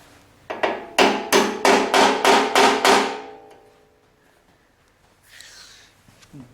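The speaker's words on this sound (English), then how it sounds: "I was going to tap the key into the shaft slot here with a hammer" Eight sharp metallic hammer taps in a steady rhythm, tapping a key into a shaft slot on a Toro 521 snowblower auger, close and ringing, followed by quiet and a faint rustle.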